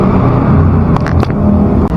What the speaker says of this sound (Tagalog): Pakita ko lang sa inyo ingay ng mga motor.